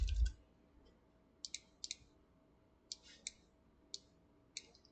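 Sharp computer keyboard and mouse clicks while editing a CryEngine flowgraph, sparse single and double taps spaced irregularly, close and clean in a quiet room.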